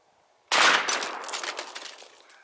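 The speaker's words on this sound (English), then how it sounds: "Now let's see what a 1 ounce rifled slug will do." A shotgun fires a 1-ounce rifled slug at a chainsaw motor, a single loud close blast that cuts in abruptly from silence and leaves a long echoing tail.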